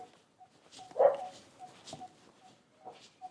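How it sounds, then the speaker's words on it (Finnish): Dogs bark at a distance in a remote Vietnamese village, a few scattered faint woofs and yaps in quiet surroundings, with one slightly louder bark near the start. "ne koirat alkaa heti haukkua"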